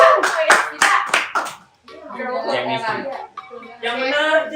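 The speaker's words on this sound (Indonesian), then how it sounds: "kok tepuk tangannya buat bintang tamu" People clap their hands for a guest star in a short burst of overlapping claps, mixed with voices. Talking then carries on without clapping.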